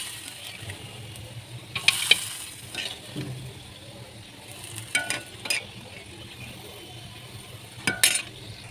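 Fried onions tipped into a pot of cooked lentils sizzle under a soft steady hiss, with a few sharper crackles and clinks of utensils against the pan scattered through.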